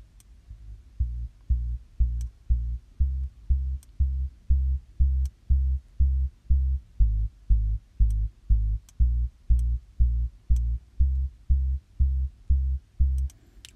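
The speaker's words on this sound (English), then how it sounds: "So we have created in this part one a bass sound" Deep synthesizer bass patched in miRack and transposed down an octave, playing a steady sequence of short, evenly spaced throbbing notes in a repeating pulse, heard alone without talk.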